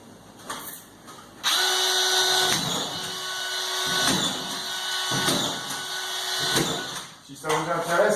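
Autofeed strip screw gun driving screws into plasterboard around a window, with a steady high motor whine, repeated bites as each screw seats, and brief clicks, while someone talks over it.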